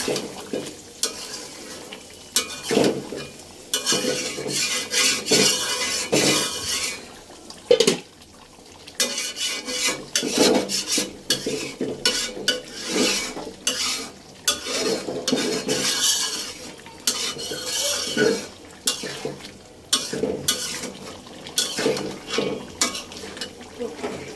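A utensil scrapes and stirs onions and green chillies in a pan in repeated bursts, with sizzling frying underneath and brief pauses between strokes.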